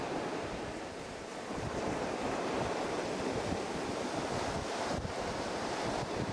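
Sea surf washing onto the shore at Glyfadaki, a steady, dense roar of breaking waves with wind buffeting the microphone, fairly close and continuous with no talk.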